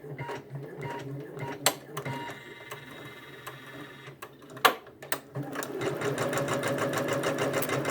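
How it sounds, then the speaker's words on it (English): A Janome embroidery machine stitches a quilt-in-the-hoop appliqué design, a steady close mechanical whir broken by sharp clicks before settling into fast, even rhythmic stitching. No one speaks. "And now when it stitches its first run here, it's going to stitch over that jump."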